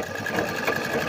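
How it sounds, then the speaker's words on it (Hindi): A sewing machine stitching a cement sack whirs in a fast, steady mechanical rattle, close and continuous for the whole moment. "यही सिलाई मशीन से ही कपड़ा सिलाई करता हूं"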